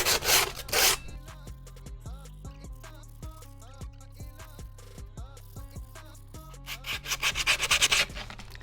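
Excess skateboard grip tape is rubbed over the board's grip tape edges, giving repeated scratchy rasping strokes, close and fairly loud, with denser bursts at the start and end.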